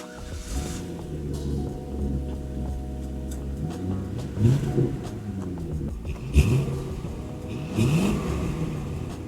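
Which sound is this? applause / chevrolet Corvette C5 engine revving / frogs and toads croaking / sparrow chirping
chevrolet Corvette C5 engine revving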